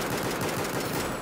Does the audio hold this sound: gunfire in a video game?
yes